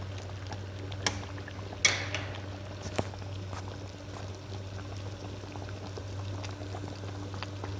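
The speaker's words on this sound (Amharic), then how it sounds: "ገርበብ አድርጌ ነው እስካሁን ያፈላሁት።" Soup simmers in a half-covered pot with a low, steady bubbling hum, marked by a few sharp clicks or taps near the start. The sound stays fairly faint and even throughout.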